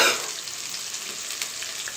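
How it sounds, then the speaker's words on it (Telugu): Eggs seasoned with salt and chili powder fry in a light coating of oil in a pan while egg biryani is prepared, giving a steady, close sizzle with no talking over it. "లైట్గా నూనె వేసేసుకొని వేయించేసుకుంటే సరిపోతుంది"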